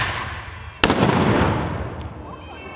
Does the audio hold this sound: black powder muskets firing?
yes